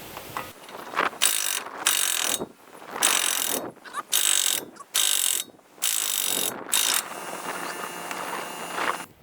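An impact wrench with a 32 mm socket works on the axle nut of a 1998 Honda Civic during a CV half-shaft replacement, firing loud, close hammering bursts separated by short pauses.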